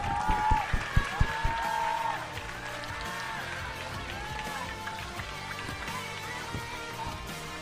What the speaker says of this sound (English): Please give a round of applause and join us in welcoming Arushan Kediswaran